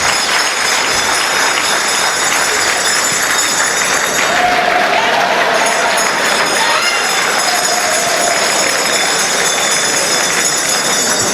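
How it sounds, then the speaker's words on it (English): Crowd at a town hall meeting in Bayelsa State applauds for the assembly and the speaker, a loud, continuous wash of clapping that holds steady throughout. "a round of applause for our assembly and the speaker too"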